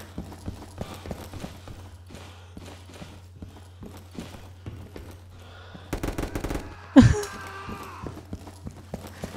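Gunfire in a shooter video game, a burst of sharp shots around the middle followed by one loud close blast, over a steady low game hum and light footstep-like ticks.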